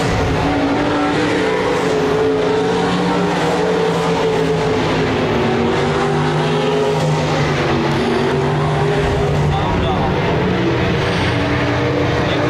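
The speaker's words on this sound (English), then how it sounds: "Almdahl again on the top side trying to get around Christensen but can't make it work" Hobby stock and sprint cars race at Park Jefferson Speedway, producing a loud, continuous roar of many engines. Revs rise and fall as the cars circle the track, with no break for the whole stretch.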